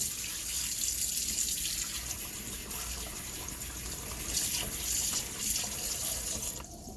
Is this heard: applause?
no